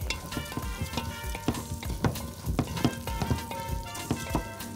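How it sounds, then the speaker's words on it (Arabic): Vermicelli fries with onion in a pan, a close, dense crackle full of rapid pops and spattering bursts that sounds almost like rain hitting a surface. "هنزل بقى ايه الشعرية واحمرها مع البصل"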